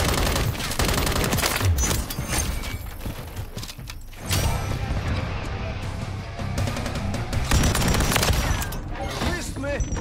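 Modern Warfare III gunfire: sustained loud bursts of automatic weapon fire with overlapping shots and sharp cracks filling the mix, with battlefield clatter and brief dips between volleys.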